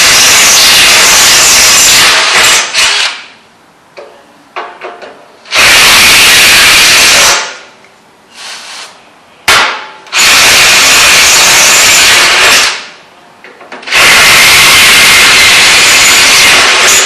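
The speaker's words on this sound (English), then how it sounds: "we're just going to drill the holes out there" A power drill bores 8mm tapping-size holes in a steel diesel tank for a narrowboat, running loud and close in four long bursts separated by short quiet pauses and brief spin-ups.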